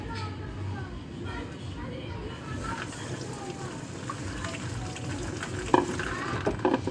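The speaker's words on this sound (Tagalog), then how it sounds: "nagsasabon na ako ng plato guys" Plates are soaped and scrubbed by hand, giving close wet sloshing, rubbing and clinking with a steady water rush and a few sharper knocks near the end, while a voice talks over it.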